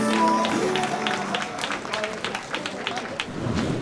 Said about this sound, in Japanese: 阿部真由選手にどうぞ大きな拍手をお送りください